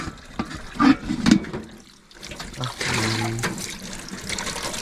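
Spring water trickles in a forest with tomato plantings nearby, a soft steady running under low rustling and a few thumps, moderately close and fairly faint.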